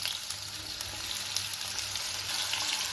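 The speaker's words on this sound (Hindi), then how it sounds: "तेल गर्म होने के बाद इसमें हम कटी हुई हरी मिर्च, आलू डाल देंगे और आलू को 2 से 3 मिनट तक पकाएंगे" Sliced potatoes and chopped green chillies crackle in hot oil with a dense, even hiss and small spitting pops. The sound continues unbroken throughout, with no speech.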